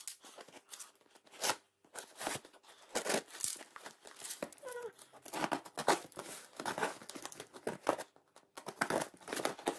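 A parcel wrapped in paper and holding a Schleich toy horse is opened up close, with steady crinkling, rustling and occasional tearing of the paper and no talk.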